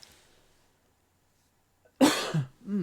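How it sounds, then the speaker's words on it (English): One sharp, close cough bursts out after a stretch of near silence, followed by a short throaty rasp. "I'm going to cough"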